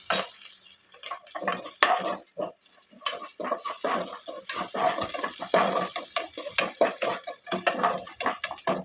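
Onions sautéed and stirred in a pan for a spicy okra curry: a steady run of scraping, clattering stirs with a soft sizzle underneath, close and fairly loud, with no talking.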